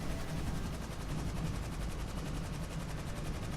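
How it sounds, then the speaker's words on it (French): A loud television plays in the background, a steady dense wash of sound with rapid rhythmic crackle like gunfire or helicopter effects, continuous and unbroken throughout. "Excusez-moi pour le bruit, hein, c'est la télé qui est forte."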